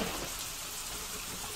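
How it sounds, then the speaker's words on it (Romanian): A steady rain sound effect layered into a lo-fi house track, a dense, even hiss of falling drops with no clear beat. "Un pic de ploaie pe fund,"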